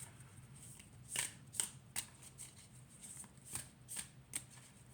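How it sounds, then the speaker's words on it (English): Oracle cards riffled and slapped together in a hand shuffle, a handful of crisp papery bursts at uneven intervals against a quiet background. "We'll just do a hand shuffle."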